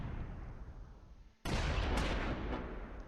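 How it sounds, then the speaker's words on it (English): A mortar round hits in the World War II strategy game Close Combat IV, a sudden loud, broadband blast and rumble that bursts in midway after a quieter stretch of battlefield noise and then sustains. "We got a decent hit with that mortar."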